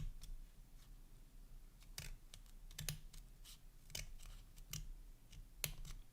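Scissors snip ribbon for a patriotic ribbon star ornament in a no-sew craft, giving a string of sharp, close cuts at an uneven pace over a low steady background hum.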